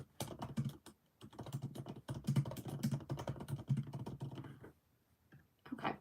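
Rapid keystrokes clatter on a computer keyboard in bursts of steady typing, close and fairly quiet, pausing briefly near the end before a final short flurry, with no voices.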